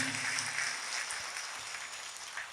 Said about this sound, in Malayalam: ഒന്ന് കൈയടിച്ച താരം മാത്രം കൊടുത്ത് നല്ലൊരു കരഘോഷം താരം കൊടുത്ത്